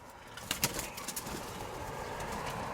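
A pigeon in a sporting loft flaps its wings in a few quick bursts near the start, followed by steady low rustling and faint background noise; no voices.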